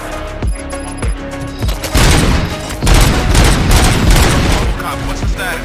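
Gunfire erupts in RoboCop Rogue City, a dense fusillade of overlapping shots and booms following a few sharp isolated reports, loud and sustained through most of the stretch.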